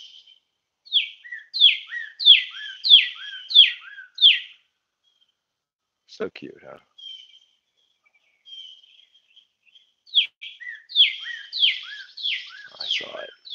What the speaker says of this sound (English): Is that a cardinal? It's a red bird.